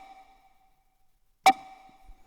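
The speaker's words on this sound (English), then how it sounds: "and then I get this little tonal layer for the snare that sounds like this." A single sharp percussive hit, a pitched tonal layer for a snare, carries a sustained ringing tone that lingers and fades, with near silence around it.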